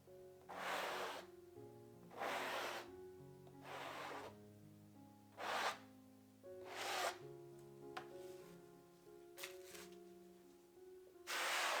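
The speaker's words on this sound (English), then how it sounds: "So I'm just gonna go ahead and scrape this and start over." Acrylic paint pour being scraped off its surface in a black and white Dutch pour: about eight separate slow scraping strokes at steady intervals, soft and close.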